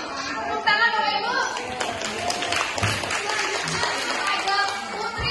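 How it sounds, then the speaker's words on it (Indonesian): An audience of adults and children at a talk on sensory and motor therapy breaks into steady applause, a dense, sustained wash of clapping with crowd murmur mixed in throughout. "Tepuk tangan Bapak Ibu."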